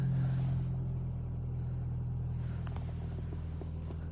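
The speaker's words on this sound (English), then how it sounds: "So to start the car, foot on the clutch, as long as the keys are on you," A BMW 320i xDrive saloon with a 2-litre turbo petrol engine and 6-speed manual fires up via push-button start, a quick starter burst settling into a steady, loud low idle rumble.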